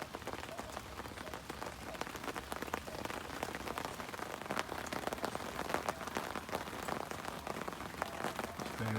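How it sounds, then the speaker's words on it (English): Heavy rain pours down at a park fishing lake, a dense steady patter of drops hitting surfaces close by, loud and unbroken throughout. "Absolutely raining cats and dogs."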